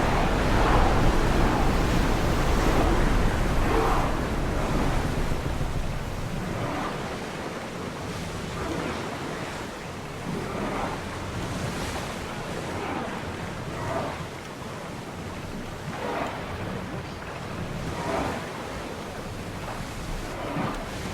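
Stormy open sea in Assassin's Creed Odyssey during sailing: a steady roar of surf and wind with repeated wave crashes rising every few seconds, loud and continuous with no talk.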